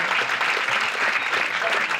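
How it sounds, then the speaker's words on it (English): Loud, dense clapping from an audience for Martha at an intimate community gathering, close and continuous for two seconds with no talking over it. "A big applause for Martha."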